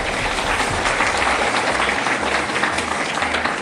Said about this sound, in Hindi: कि सभी अपने लिए जोरदार तालियां बजाएं।